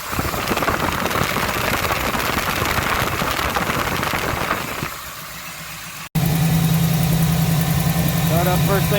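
AMC AMX car engine idling nearby, a steady low rumble holding for several seconds, broken by a brief cut, then a different droning hum with talk over it.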